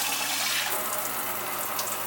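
Cold tap water runs in a steady, close hiss and splash into a pot in a dorm kitchen, continuous and alone for about two seconds.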